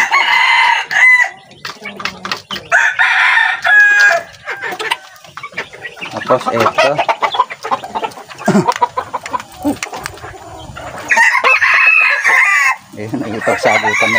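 Hens and several roosters on a farm cluck and crow in repeated loud bursts, close by, while someone talks over them between calls.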